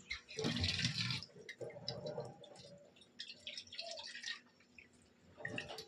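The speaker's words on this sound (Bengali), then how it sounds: "একটু জল দিয়ে দিই" Water is poured into a cooking pot of mutton curry in a home kitchen, a short splashing pour at the start followed by quieter dripping and clinking, with faint voices in the background.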